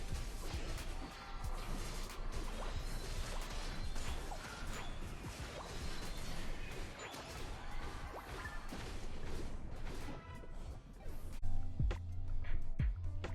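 Attacks land in a Pokemon Unite match with Mewtwo, a dense, busy stream of smashing impacts, whooshes and sharp thwacks over game music. The barrage runs continuously, with heavier thuds near the end.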